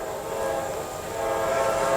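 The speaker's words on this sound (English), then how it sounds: "We got a northbound CSX" A northbound CSX freight train passes near Selma on the number 2 track, sounding its horn: a loud, steady, multi-tone blast held over a rumbling rail background.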